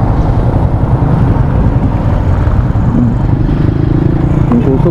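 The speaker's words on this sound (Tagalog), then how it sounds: "Grabe ka traffic lagi oh." Heavy road traffic on a diversion road, a loud continuous engine rumble that stays close and steady throughout with no clear individual passes.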